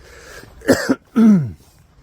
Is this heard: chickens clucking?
no